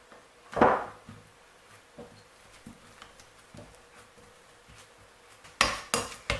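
Four bananas are mashed in a bowl, with a loud scrape early on, then soft irregular taps and squelchy knocks of the utensil against the bowl, and a cluster of sharper clinks near the end.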